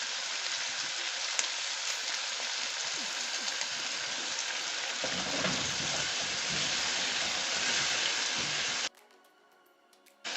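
Soy sauce bubbling and simmering in a hot frying pan with onions for homemade beef burgers, a steady rain-like hiss and crackle held close and even for several seconds, then cutting off abruptly near the end.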